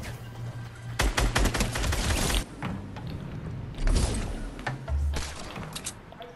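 Bursts of rapid gunfire in a Fortnite Easter-event match, loud automatic volleys breaking out in several clusters over a game-sound background, with no talk over them.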